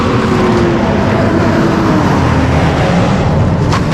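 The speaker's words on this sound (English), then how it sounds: "loud trucks notwithstanding" Loud trucks passing on a roadside in California, a continuous heavy engine roar and tire rush that fills the clip at close range without any voices.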